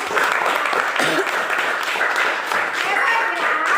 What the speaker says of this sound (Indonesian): Iya, tepuk tangan di situ